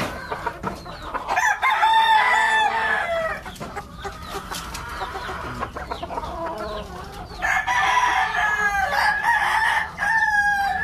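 Roundhead gamefowl chickens crow repeatedly with loud, harmonic calls and scattered clucks over a steady yard background, the crowing swelling again near the end with several birds overlapping.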